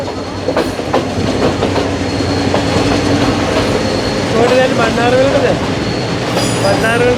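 A Sri Lankan passenger train with an open rooftop carriage rolls along, its steady loud rumble and clickety-clack of wheels on rail joints continuing throughout, with occasional brief squeals and a faint voice in the background.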